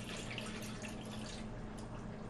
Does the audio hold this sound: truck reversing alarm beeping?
no